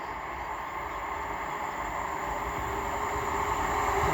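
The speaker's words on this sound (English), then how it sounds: "The next train to be passing through will be a pairing of 158s running from Leeds" A pair of coupled Class 158 diesel units running from Leeds to Wigan Wallgate roll through Castleton station, a steady, loud, close rumble and rail roar that builds slightly as they pass.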